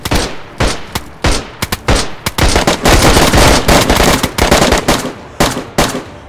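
Loud, close gunfire in the video game DayZ on PC in Zelenogorsk, Chernarus: sharp single shots give way to a dense, rapid automatic burst, then more scattered cracks.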